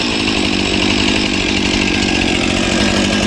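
A Stihl chainsaw runs steadily at close range, its engine whining continuously as the chain spins on the bar, loud and unbroken with no cutting heard.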